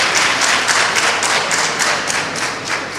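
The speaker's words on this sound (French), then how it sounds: "Vous acclamez pour le président." Audience applauding for the president at an official ceremony, a dense, steady wash of many hands clapping at close range that continues without a break and carries no voices.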